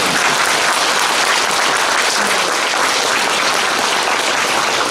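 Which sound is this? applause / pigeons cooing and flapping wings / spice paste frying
applause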